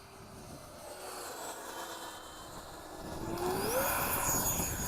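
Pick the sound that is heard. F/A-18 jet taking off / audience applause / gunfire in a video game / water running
F/A-18 jet taking off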